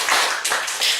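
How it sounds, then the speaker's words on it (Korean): A congregation at a Korean church harvest thanksgiving service claps together: a short burst of several close, sharp claps in an uneven rhythm, loud and without speech. "박수합시다."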